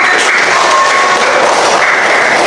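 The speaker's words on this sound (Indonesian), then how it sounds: "Tepuk tangan dulu, Pak." Classroom applause from students during a maths lesson, a loud, dense wash of clapping that holds steady for a few seconds without talk.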